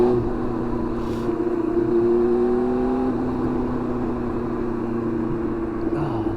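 A Yamaha R1 motorcycle engine hums and rises in pitch as it revs, with a steady drone of riding and wind noise; a rider talks over it at times.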